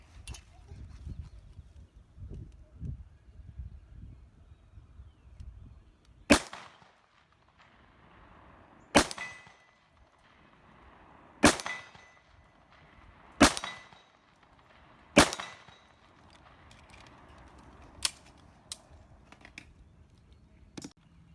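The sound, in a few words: 45 Super pistol gunshots, 255 grain round nose loads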